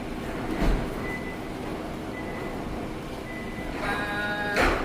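A train at a station in Singapore: a steady rumbling hum of the railway setting with faint metallic squeals and a brief whine near the end, moderately loud, with no clear talk over it.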